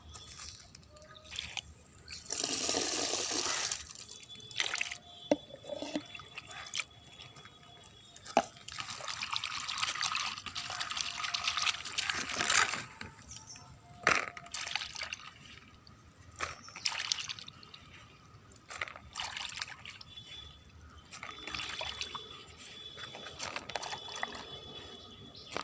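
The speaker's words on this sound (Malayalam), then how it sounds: "ഒരു 3-4 വട്ടം നമ്മൾ ഇതേ ഇങ്ങനെ വെള്ളത്തിൽ കഴുകിക്കൊണ്ടേയിരിക്കണം." Crushed turkey berries being washed by hand in a vessel of water: intermittent sloshing, dribbling and splashing in soft bursts, with quiet drips and pauses between, fairly close and faint.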